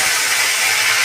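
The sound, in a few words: eggs frying in hot oil in a wok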